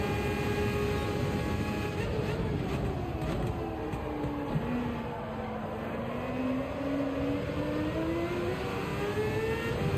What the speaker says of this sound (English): You can just hear all the rest of the cars just like flying around in the track